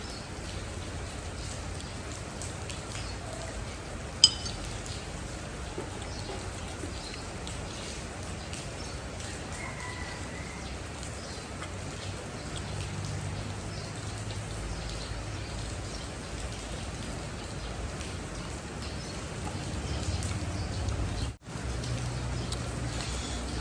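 Steady rain falling outdoors in a rural setting, a constant soft patter of drops across the whole stretch with no voices, one faint click near the start.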